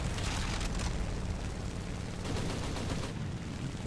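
A Zero fighter plane's machine guns fire in War Thunder, producing a dense, continuous rattling stream of shots over a constant engine roar, with no voices.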